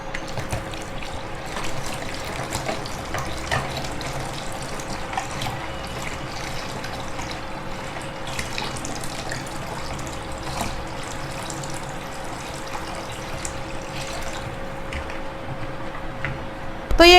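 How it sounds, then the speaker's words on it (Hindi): Four cups of water trickle into a curd curry batter in a kitchen, a quiet, steady pour lasting most of the clip with no talking. "अब इसमें हम 4 कप पानी डालेंगे।"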